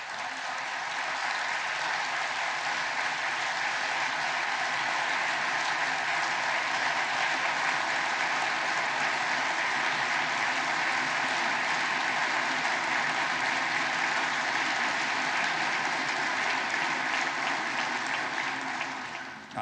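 Sustained audience applause in the US Congress during an address by the Greek prime minister, a dense, loud, even roar of many hands clapping for nearly twenty seconds before fading at the close.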